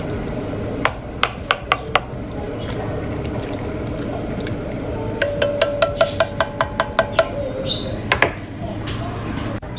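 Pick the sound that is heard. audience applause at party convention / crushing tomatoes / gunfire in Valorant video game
crushing tomatoes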